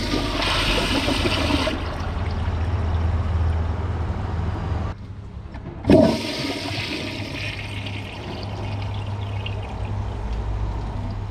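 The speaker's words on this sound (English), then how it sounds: "let's see how it flushes with clogged pipes." A Kohler Highline Pressure Lite toilet from 2025 flushes with clogged pipes, giving a loud rushing burst of water, a brief pause, a sharp pressurized whoosh, then a long steady refill hiss.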